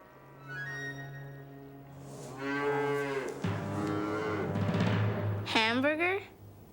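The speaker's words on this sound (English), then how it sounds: "His cattle are gonna die of thirst" Cattle mooing in long, drawn-out calls, with a deep steady low moo under rising and falling calls, loud and close, followed by a higher bellow near the end.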